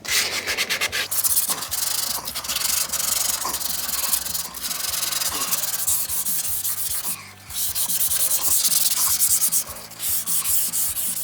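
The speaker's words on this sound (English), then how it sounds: "I'm gonna take the piece of sandpaper with some water." Wet sandpaper scrubs a rusted flattop griddle in steady back-and-forth strokes. The gritty rasp is close and continuous, with brief pauses between passes and no talking.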